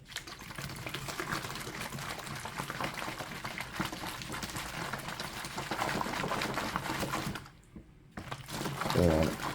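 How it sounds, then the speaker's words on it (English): Nutrient solution being shaken in a gallon jug of water, a steady liquid sloshing and churning that runs loud for several seconds, breaks off briefly, then resumes with a heavier slosh. "and shake it up real nice."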